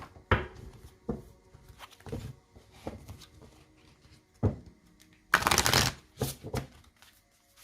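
Oracle cards are shuffled by hand at close range, a series of soft riffling flicks and taps in uneven bursts, with one longer louder riffle toward the end.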